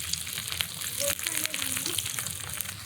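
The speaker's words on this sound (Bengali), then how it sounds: "মাছের সাথে ফোড়নটা একদম পোড়া পোড়া করে ভেজে নিলাম" Dried chillies, black cumin and green chillies fry in oil with a hilsa fish head, crackling and sizzling close up with scattered pops and a few faint utensil sounds.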